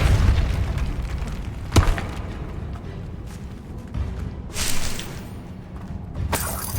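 Depulso force spell cast in Hogwarts Legacy, heard as a series of booming magical bursts and whooshes. Several sharp impacts rise over a low rumbling game ambience, with no talking.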